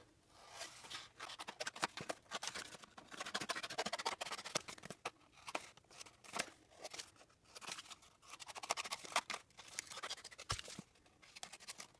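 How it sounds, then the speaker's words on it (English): Scissors snipping through paper to cut out a scored paper-gem template, a quiet run of short crisp cuts and rustles repeating irregularly, close and soft. "And here's where you take out your scissors."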